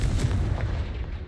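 Confringo spell blast from the Hogwarts Legacy video game, a dense, continuous low rumbling burst like artillery that sustains loudly for over a second without a break.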